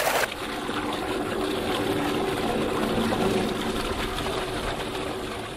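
Irrigation water flowing out onto a farm field, a steady rushing, gurgling stream with a constant mechanical hum underneath, close and unchanging.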